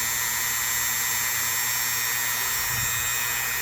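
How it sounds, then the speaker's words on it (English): A Dremel rotary tool with a fresh polishing pad buffs the bolster of a classic Boker USA electrician's knife, giving a steady, loud, high motor whine with slight grinding. "And I got a fresh pad here on the Dremel."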